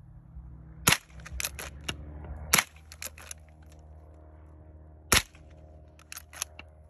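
A Marlin Model 1897 shotgun fires at tubing outdoors: three sharp, loud, close blasts spaced a few seconds apart, with lighter mechanical clacks of the action between them and no talking.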